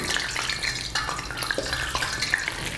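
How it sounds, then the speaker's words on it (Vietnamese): Hot fat is ladled over a pigeon in a frying pot, giving crackling sizzles and sputtering pops in irregular bursts at close range. "Mới đầu chúng ta có thể dội qua một chút mỡ."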